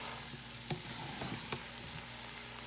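Onions and beef frying together in a pan, a soft steady sizzle with a few light stirring clinks, faint and close, no talking.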